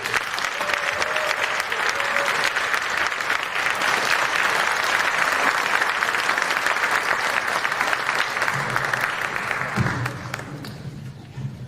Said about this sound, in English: Can we get one more big round of applause for all of you?